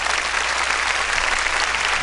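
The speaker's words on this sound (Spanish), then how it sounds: "dele palmas al Señor" Congregation applauding in a church service, a dense, steady wash of many hands clapping together at close range, continuous and loud with no pauses and no voices standing out.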